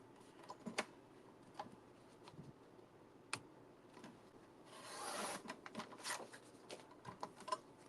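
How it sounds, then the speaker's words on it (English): Quiet scissor snips and paper rasping as a small strip of paper is cut for a journal, with scattered light clicks and a brief, slightly louder scraping stretch partway through, close and soft with no talking. "So I'm just going to cut a piece off of this."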